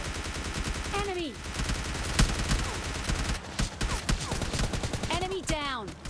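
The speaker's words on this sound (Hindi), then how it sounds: "और गाइस इसने फायर भी की।" An M416 assault rifle fires in PUBG Mobile Lite: rapid automatic bursts of crisp shots, close and loud, broken by brief gaps and mixed with sweeping tonal game sounds.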